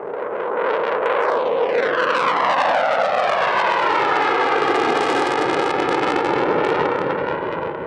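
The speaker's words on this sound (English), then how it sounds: "they showed off one of their Typhoons, which was put through its paces in an attractive and high-quality demonstration" A Eurofighter Typhoon jet roars loudly through a flying display, its engine noise sweeping with a strong Doppler pitch shift as it passes, with no talk over it.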